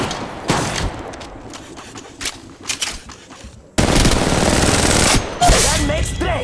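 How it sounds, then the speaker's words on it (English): Gunfire in the mobile battle royale Apex Legends Mobile, scattered shots and short bursts early, then a loud sustained stretch of rapid automatic fire near the end. "Shooting at me."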